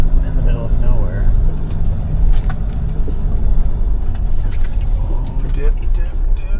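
An old diesel Sprinter van jolts along a rough, remote dirt road, its engine rumbling under constant clattering and rattling from belongings loose in the back, close and loud, with a person talking over it.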